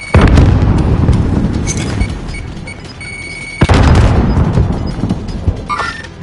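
A grenade blows up in Call of Duty Warzone on the Verdansk map. The blast is loud and close, with a heavy boom that rolls off, and a second sharp burst follows partway through. Other game noise sits underneath.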